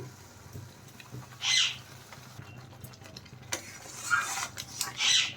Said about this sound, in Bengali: দেখুন নেড়ে চেড়ে ভালো করে আমি মশলা কষিয়ে নেব।